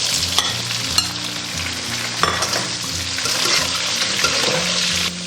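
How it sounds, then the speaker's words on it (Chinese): Lamb stir-fried with carrots and potatoes in an iron wok gives a steady, close, loud sizzle, broken by scraping spatula strokes and clanks of metal against the pan. "煸炒个4、5分钟"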